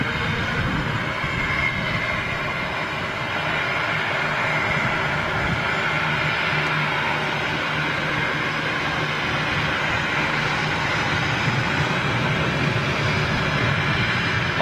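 Ilyushin IL-76 jet engines run up on the brakes, a loud, steady broadband roar with a deep rumble that holds at full power throughout, close and continuous with no talk.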